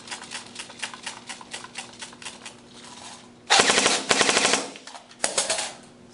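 Lancer Tactical airsoft electric gun firing BBs in loud, rapid full-auto bursts, one long burst and a shorter one, after a stretch of quieter clicking and rattling handling noise.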